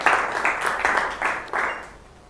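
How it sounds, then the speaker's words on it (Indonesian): Brief applause from a classroom audience honouring two students during a school problem-based learning lesson, a few bursts of clapping that fade out over about two seconds. "tepuk tangan buat Rafael dan Anita"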